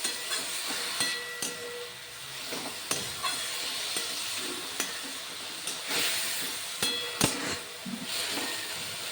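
Fenugreek greens cook in a pan with turmeric, giving a continuous hiss and sizzle broken by regular scraping and knocking strokes as they are stirred. Close and moderately loud, with no talking.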